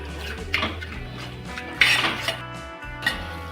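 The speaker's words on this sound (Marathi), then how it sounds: "हे एक आपल्याला एखाद मिनिट परतून घ्यायचे जरा हे मसाले." Spices being sautéed and stirred in a cooking pan while making a Maharashtrian black fish curry gravy, with metal utensil scrapes and clinks against the pan over a low sizzle, close and moderately loud.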